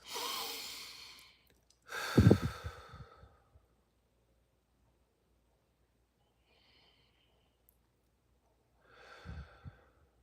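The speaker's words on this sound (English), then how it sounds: "take a couple deep breaths" Deep breaths taken during a mindfulness pause, with a long exhale, then a louder breath with a snort-like sigh, several seconds of silence, and one more breath at the end.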